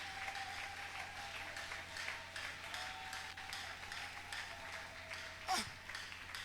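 A church congregation applauds steadily and fairly loudly throughout, the clapping sustained at an even level with a brief sharp ringing note near the end.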